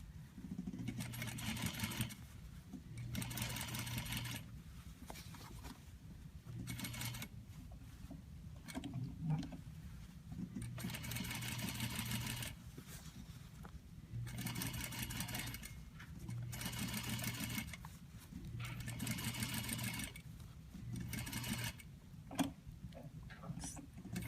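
Sewing machine understitching a neckline facing: quiet, fast mechanical whirring runs in repeated bursts of a few seconds each, with short pauses between them.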